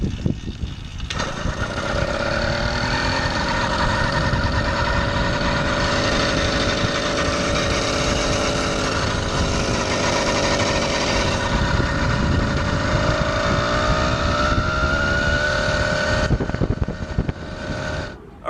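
A two-stroke gas moped bike engine catches after a short pause and runs on loud and close, a buzzing rattly drone with wavering pitch that rises slightly near the end before cutting off.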